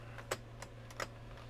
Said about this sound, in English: I'm gonna have to actually type this in.